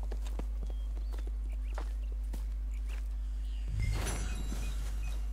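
Horse hooves clip-clop in Red Dead Redemption 2 in a steady walking rhythm. The steps are fairly close, and a louder burst of game noise comes in partway through.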